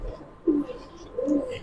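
Pigeons kept for sale as single birds, cooing in two low, drawn-out phrases with a quieter stretch between them, close and fairly soft.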